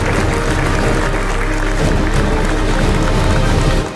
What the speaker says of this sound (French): Sous vos applaudissements, merci d'accueillir Madame Aïssatou Jeanne Ndiaye, directrice des TIC.